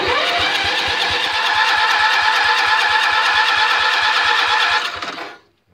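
A John Deere 111 lawn tractor engine cranks with the choke on, a loud rapid rhythmic churning from the starter that runs steadily for about five seconds, then cuts off without catching.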